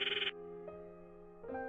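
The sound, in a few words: phone call ringing tone in video game Steins;Gate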